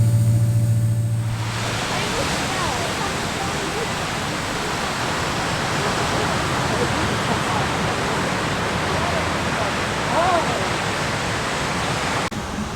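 Sea waves wash steadily onto a beach at sunset, a continuous broad roar of surf with slow swells that stays loud and unbroken throughout.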